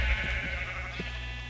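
Sheep in Minecraft bleat a few times over a steady background hum, short wavering calls that repeat without talk.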